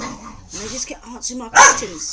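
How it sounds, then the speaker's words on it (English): Dogs bark and yip in short bursts, with one loud close bark near the end, heard under and between a woman's speech. "Excuse the noise, the dogs are showing off."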